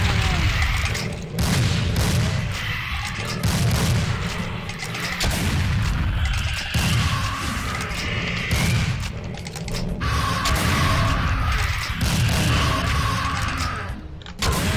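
Rapid gunfire and mechanical weapon sounds from the video game Doom II crackle in dense, overlapping bursts, with someone talking over the action.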